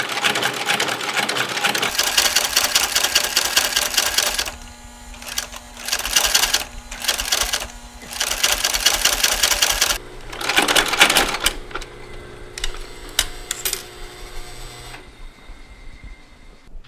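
A sewing machine stitches through heavy leather in a workshop, loud rapid mechanical chattering in several bursts separated by short pauses, then slower, quieter intermittent stitching.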